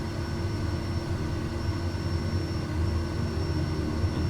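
Steady, droning turboprop engine of an SWS Kodiak 100 departing in Microsoft Flight Simulator 2024, a constant low hum with a thin high whine, unbroken and fairly close throughout.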